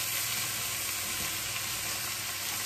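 Chorizo sizzling and frying in a pan, a steady, dense crackle and hiss with no talking.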